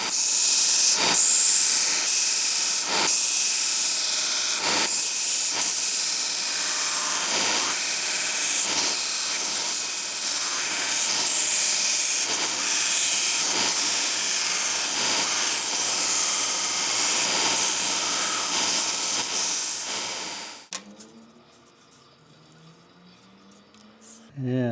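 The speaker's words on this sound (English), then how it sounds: "I'll just put this on my belt sander and bring it down to that mark." A belt sander grinds a steam-bent wooden frame part for a coach body, giving a loud, steady, hissing abrasive roar with periodic thumps for about twenty seconds before it cuts off and winds down.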